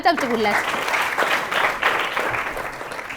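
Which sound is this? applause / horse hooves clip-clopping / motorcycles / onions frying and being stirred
applause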